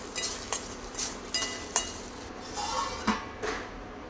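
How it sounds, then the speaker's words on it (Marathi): Sweet semolina shira is stirred in ghee in a metal pan, a spoon scraping and clinking against the pan in a steady rhythm, close and moderately loud, with a faint sizzle beneath. "आणि हे जरा हलवून घेऊया ह्या तुपावर"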